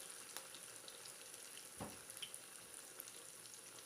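Potato kebabs fry in cooking oil over a medium flame, giving a soft, steady sizzle with a few small pops and one brief bubbling burst midway.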